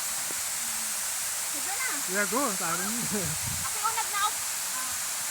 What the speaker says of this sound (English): This is the waterfall here.